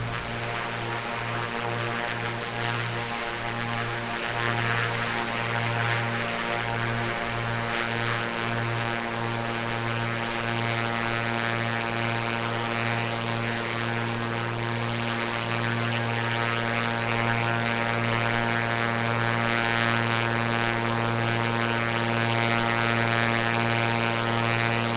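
Piper Comanche 250 engine droning steadily in cruise within a Microsoft flight simulator, a loud, even propeller hum with strong harmonic tones and cabin wind noise, continuous and unbroken, with no talking.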